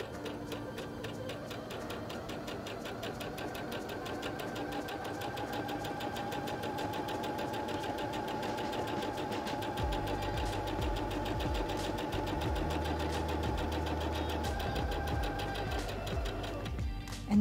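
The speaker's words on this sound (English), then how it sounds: "Step on the foot control to sew forward again" A Singer HD6805C sewing machine stitches forward with a quiet, steady motor whir and rapid needle rhythm, growing slightly heavier partway through, with no voices.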